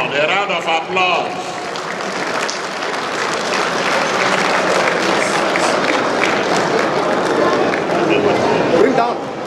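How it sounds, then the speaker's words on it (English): A large crowd of delegates at a party national convention bursts into loud applause, with clapping, chatter and voices mixed throughout the sustained noise. "A round of applause."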